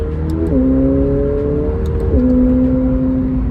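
A 2024 McLaren 750S sports car engine holds a steady note, then drops in pitch twice as it downshifts through the gears, close and loud.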